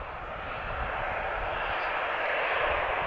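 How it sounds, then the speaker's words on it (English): EasyJet Airbus A320 airliner arriving at Lisbon airport, its engines a steady, loud broadband roar that holds level and swells slightly toward the end, with no voices over it. "This is an A320 arriving from my old home base, Manchester."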